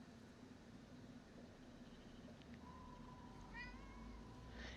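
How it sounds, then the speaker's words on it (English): A cat lets out a couple of short, faint meows late on, heard alone over a quiet, steady background hum. "she did meow"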